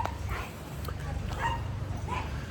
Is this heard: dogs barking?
yes